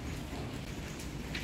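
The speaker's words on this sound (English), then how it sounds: "Today is super good weather because it's raining." Steady rain falls in Malaysia, a dense even hiss of drops close by with faint individual splashes, no voices.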